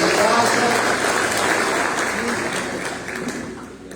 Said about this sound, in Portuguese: Quem crê, dê uma salva de palmas para Jesus.